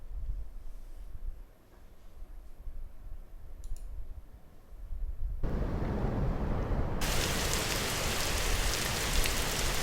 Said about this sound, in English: This is the rain sound.